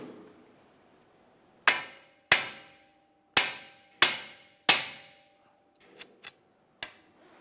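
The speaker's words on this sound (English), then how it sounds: "we're going to put a little bit of downward pressure on our ball joint while we strike the knuckle" Five sharp hammer blows on a steel steering knuckle of a 2012-2017 Toyota Camry to free the lower ball joint, spaced irregularly and ringing briefly, followed by a few lighter metallic taps; close and loud, no talk.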